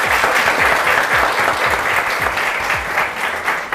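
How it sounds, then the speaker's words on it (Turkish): Studio audience applause on a Turkish quiz show, loud steady clapping from a crowd held at an even level for a few seconds before tapering slightly at the end. "o zaman doğru bir alkış Chubby'ye"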